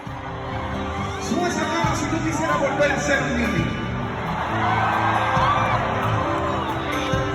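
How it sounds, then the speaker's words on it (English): A large crowd at a concert in Miami cheers, whoops and shouts continuously in a dense, loud roar, with voices calling out throughout. "The whole crowd is loving it."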